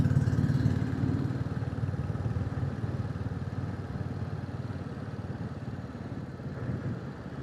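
A Royal Enfield Classic 350 single-cylinder motorcycle rumbles steadily at low revs while riding over mud and gravel, its close, continuous thumping engine note joined by faint clatter.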